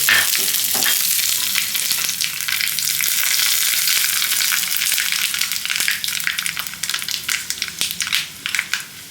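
Mustard seeds and curry leaves sputtering in hot oil for a dhokla tempering, a steady loud crackling sizzle with scattered pops, close up, fading slightly toward the end.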